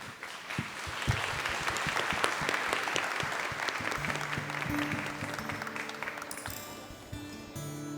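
Applause from an audience at a church round-table gathering, steady and dense throughout, with a few brief tones near the end.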